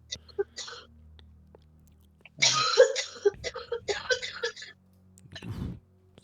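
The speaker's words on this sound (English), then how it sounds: "my coughing is coming through?" A person coughing during a tabletop role-playing session, a few faint coughs early, then a louder burst of coughing and throat noises, followed by another cough near the end.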